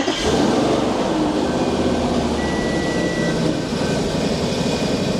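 A steady, rumbling Audi RS5 engine idle with an uneven, lumpy low-end throb from a rough-running fault, close and continuous with no talking.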